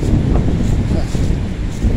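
Strong wind gusts outdoors beside a roadside grave site at a four-way stop, roaring and buffeting the microphone with a dense, continuous low rumble.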